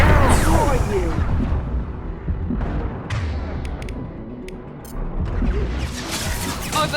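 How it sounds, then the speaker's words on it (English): Heavy gunfire and crashing impacts from a combat firefight in Mass Effect 2 Legendary Edition, dense and loud throughout, with sharp bursts and booming hits layered over a rumbling battle din. "Taking heavy fire!"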